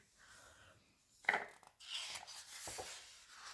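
Pages of a big vintage book being turned: soft, faint papery swishes and rubs, one sharper rustle followed by a longer gentle sweep, heard close in a quiet room.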